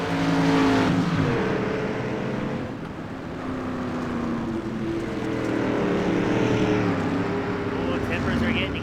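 Pro street stock cars race around the USA International track, a continuous engine drone with shifting pitch as the cars pass, heard under steady commentary.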